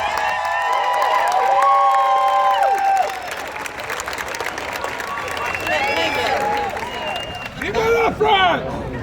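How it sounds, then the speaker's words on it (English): An audience at a hometown heroes ceremony applauds and cheers to welcome a consul general. Loud, steady clapping is joined by shouts and whistle-like calls, with voices mixed in. "Let's give her a round of applause."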